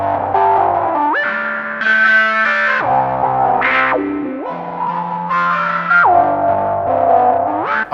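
A piano played through a Big Muff fuzz, a whammy and a wah pedal: dirty, heavily distorted notes with pitch swoops and shifting filtered sweeps, loud and continuous over several phrases.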